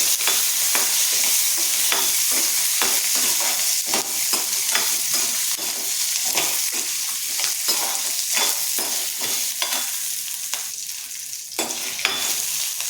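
Tamarind and garlic sizzle steadily in a hot pan while a utensil scrapes and stirs in quick, irregular strokes, close and fairly loud.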